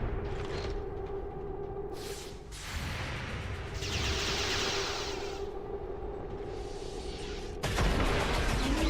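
Bursts of gunfire and explosive booms in the XCOM 40k Astra Militarum video game, several volleys spread across the stretch, with whooshes and a loud impact near the end.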